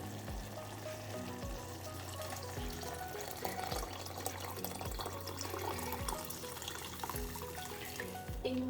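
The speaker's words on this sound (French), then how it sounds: "je vais ajouter de l'eau bouillante." Boiling water goes into a tajine of meatballs, giving a loud continuous sizzle and watery rush with a few soft knocks spaced through it.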